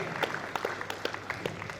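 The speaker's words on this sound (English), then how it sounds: "I want us to give a round of applause to the organizers of this event" Light, scattered applause from a small audience at a university career fair held for the event's organizers; sparse, fairly faint claps rather than a full ovation.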